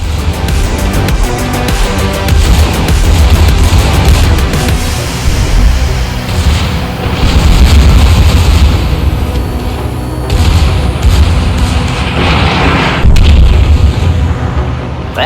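Secondary guns booming over and over aboard the German tier 3 battleship Nassau in a naval video game, heavy overlapping blasts and rumble that go on without a break, loud and close.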